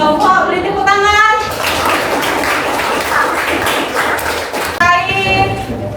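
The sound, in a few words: classroom clapping for a student group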